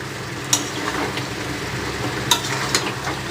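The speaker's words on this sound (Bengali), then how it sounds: "মাংসটা তো মোটামুটি ভাজা হয়ে গেছে, আর হালকা একটু জল দিয়েছি, আলুটা দেবো" Meat and potatoes frying in a pan with a little water added, giving a continuous close sizzle with a few sharp stirring clicks and scrapes against the pan.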